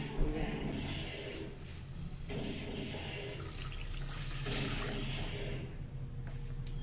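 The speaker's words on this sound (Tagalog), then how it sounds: "lagyan natin ng tubig" Water runs steadily into a pot for several seconds, a continuous splashing pour with a low background hum.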